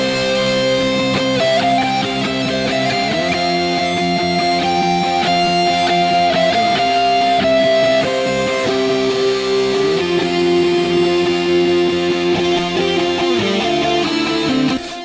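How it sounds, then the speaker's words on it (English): A sustained electric guitar solo with delay and reverb rings out over a full backing band, notes bending and lingering with a spacious echo, loud and steady throughout. "it's the simplest guitar solo in the entire world"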